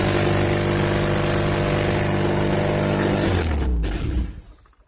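An H2B-swapped AWD 5-speed Honda CR-V engine idles with a loud, steady drone close by. The tone shifts near the end and the sound fades away.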